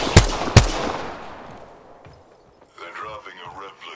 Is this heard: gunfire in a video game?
yes